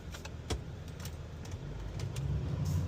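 A 2024 Chevrolet HD2500 with the L5P diesel pulls hard under acceleration, a steady low engine roar building in loudness over a few seconds, close and continuous with faint clicks, no talking.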